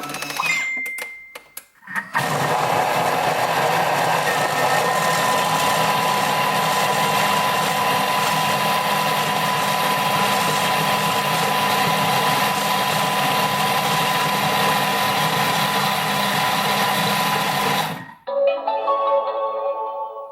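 A kitchen robot mixes at speed 5 with a steady, loud motor whir. The whir runs unbroken for about sixteen seconds, then stops abruptly, and a few faint clicks and rattles follow.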